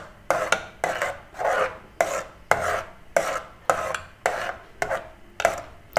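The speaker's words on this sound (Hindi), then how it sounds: "अभी थोड़ा सा और इसमें चम्मच हिलाऊंगी" A spoon stirs slightly warm milk in a pot in regular scraping sweeps, about one and a half per second, close and distinct with no voices.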